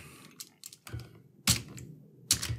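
Close, crisp keystrokes on a computer keyboard in short irregular bursts of typing separated by pauses, a script being written in 3ds Max.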